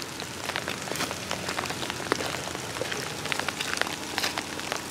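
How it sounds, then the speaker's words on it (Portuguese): Light rain falls steadily in the dry Brazilian backlands, a dense, even patter of drops on leaves and ground with scattered sharper ticks, heard alone without voices. "A chuvinha."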